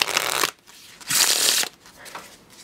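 A deck of playing cards printed on cycle stock is shuffled in two close, crisp bursts of riffling flutter separated by a brief pause, followed by softer handling sounds, with no talking.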